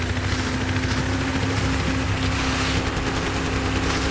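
Helicopter in the Battlefield 3 video game, a steady, loud rotor-and-engine roar with a constant hum running through the whole stretch, no voices.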